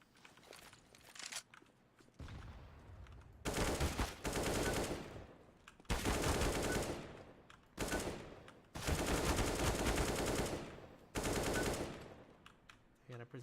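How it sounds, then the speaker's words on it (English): Gunfire rings out at a shooting target in several loud, sustained bursts separated by short pauses. The shots sound close and harsh, with brief quieter gaps of handling in between. "I'm gonna shoot it. I still hit that."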